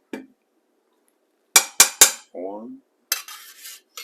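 A metal spoon clanks three times against a pot while bacon grease is scooped into a pan for a big pot of turnip greens, sharp close knocks followed by a brief scrape, a short spoken word and more clatter.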